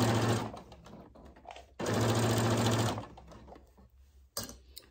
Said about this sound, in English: So we're just gonna stitch the rest of the way